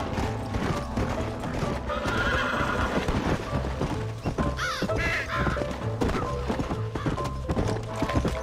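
A horse in the video game Red Dead Redemption gallops with rapid clip-clopping hooves and lets out a neigh midway, the sounds layered with game ambience and bird calls throughout.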